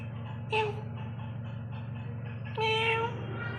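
A cat in a Konkan village home gives two clear meows a couple of seconds apart over a steady low droning hum.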